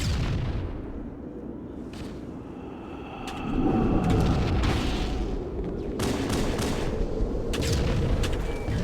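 A thrown grenade bursts in a Halo tournament match, a heavy boom swelling midway through a steady roar of game battle noise, with sharp gunfire cracks and weapon clatter scattered throughout.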